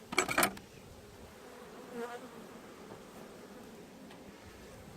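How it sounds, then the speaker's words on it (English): Honeybees shaken into a top bar hive buzz in a low, steady drone close by, with a brief rattle and rustle at the start. "so I've shaken a bunch of bees in"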